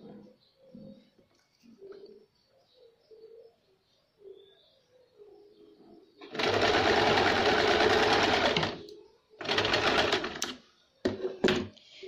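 A sewing machine stitches folded fabric on a baby frock in two bursts of rapid, loud whirring, then short runs, after a quiet stretch where pigeons coo softly in the background.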